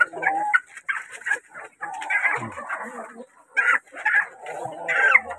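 Native chickens mixed with Rhode Island Reds cluck and murmur in a pen, a close, busy chorus of short irregular calls with brief louder squawks, and someone speaks softly among them.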